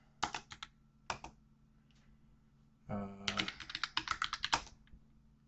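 Clicky computer keyboard typing a command, a few isolated keystrokes early, then a quick burst of rapid taps, close and clear with faint background hum.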